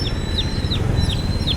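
Chickens cluck close by while a small chick gives repeated high, sharp peeps, several short calls spaced through the moment over a low farmyard background.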